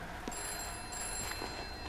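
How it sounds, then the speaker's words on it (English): A telephone rings inside a horror house in a game, its high, steady electronic tone sounding twice, moderately loud, over quiet room ambience. "We have a phone ringing in here"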